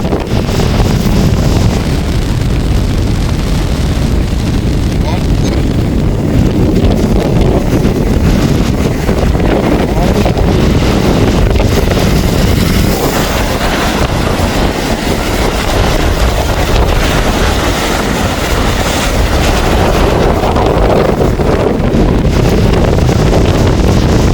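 Stormy sea on the Point Pedro coast, with heavy waves pounding in under a constant roar of strong wind buffeting the microphone, loud and unbroken throughout.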